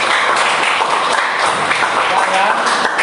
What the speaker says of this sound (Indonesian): tepuk tangan untuk pertanyaan